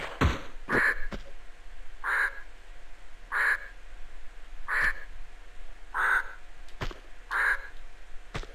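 A crow in Tomb Raider II Remastered's Barkhang Monastery caws steadily, six evenly spaced harsh calls roughly every second and a bit, moderately loud, with occasional sharp clicks between them and no talk.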